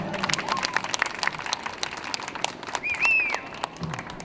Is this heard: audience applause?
yes